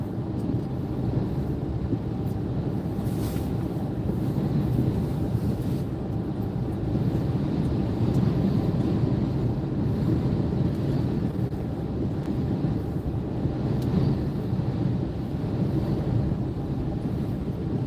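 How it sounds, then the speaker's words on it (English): Strong wind buffets a microphone in a coastal windstorm at Ocean Shores, Washington, heard from a moving vehicle, a steady loud broadband roar with low rumble throughout, no pauses. "Like the wind has picked up here."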